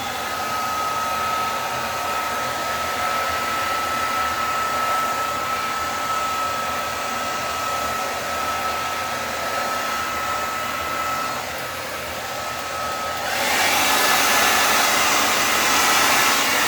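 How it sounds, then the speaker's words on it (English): A hair dryer on low blows steadily with a loud, even whoosh and a faint whine, growing slightly brighter toward the end, with no talking. "I may turn on the hair dryer"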